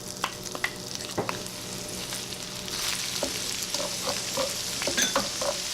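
Minced garlic, five cloves, frying in melted butter in a pan for shrimp scampi, a close, steady sizzle with stirring scrapes and clinks that grows louder and fuller partway through.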